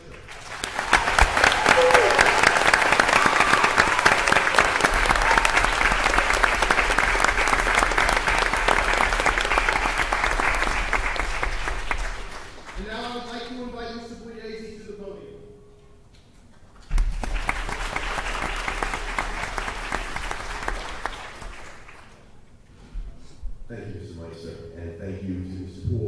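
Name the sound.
audience applauding music teachers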